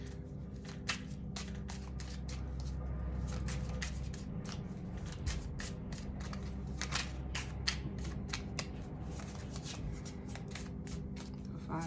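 Tarot cards are shuffled and handled in a quiet room, making faint, irregular papery riffles and snaps over a low steady background hum.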